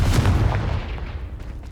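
A single Confringo spell blast in Hogwarts Legacy: one sharp, heavy boom that fades into a rumbling tail within about a second.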